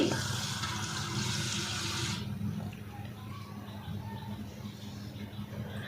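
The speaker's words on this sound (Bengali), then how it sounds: "আর পাতার মধ্যে যে ময়লাগুলো ছিল সেগুলো যাতে খুব ভালোভাবে পরিষ্কার হয়ে যায় সেজন্য আমি হচ্ছে গিয়ে ধুয়ে নিচ্ছি" Leaves are washed with water to clean off dirt, heard first as a strong rushing pour that stops after about two seconds, then quieter trickling and light splashing of water.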